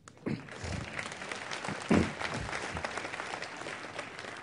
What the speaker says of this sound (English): This is time for applause.